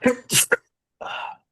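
A single person's sneeze, a sharp nearby burst of breathy noise with a short follow-up, then a brief voiced sound after a pause.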